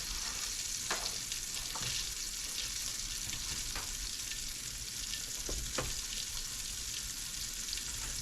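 Spicy snapper fish nuggets frying in hot oil, a dense steady sizzle with crackling bursts and a few sharper pops throughout, close and continuous with no talking.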